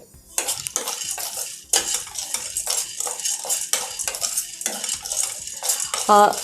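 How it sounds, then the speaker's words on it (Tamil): Peanuts dry-roasting in a pan, stirred with a metal utensil in bursts of rattling, scraping strokes separated by short pauses, close and clear, ending with a sharp metallic clink, with no talk. "இன்னும் கொஞ்சம் கிறிஸ்பாக ஆகணுன்றதுக்கோசரம் வறுக்கிறேன்."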